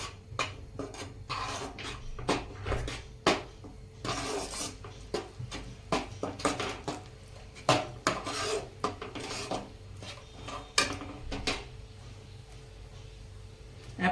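Wheat flour stirred into hot ghee in a pan while making sukhdi: a steady run of close, dry scraping and rasping strokes against the pan, irregular and repeated throughout, with no talk.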